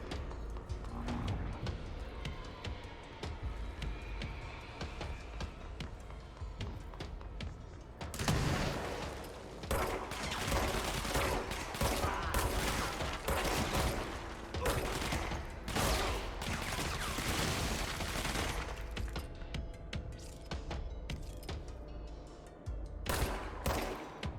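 Rapid bursts of gunfire from a shooter video game during a timed headshot challenge, dense repeated shots that grow louder and more constant after the first few seconds, with no talk.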